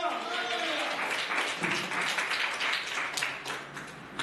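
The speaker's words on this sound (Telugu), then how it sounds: "కొట్టు చప్పట్లు" A church congregation claps steadily while a loud preacher's voice carries on over the applause, the clapping dense and continuous throughout.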